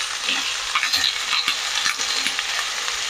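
Vegetables for a village-style soup, including carrot, cabbage and spring onion leaves, sizzle in a pan while a spoon stirs them with scraping clinks. The frying is close, steady and alone, with no talking.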